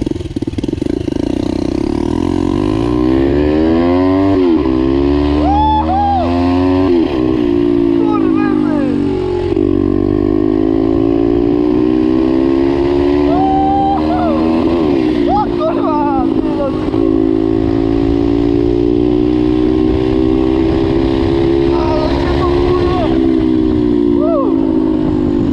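A Loncin pit bike engine revs hard at full throttle, a loud, raw buzzing whine that climbs and dips through repeated pulls over about half a minute, close by, with people talking over it.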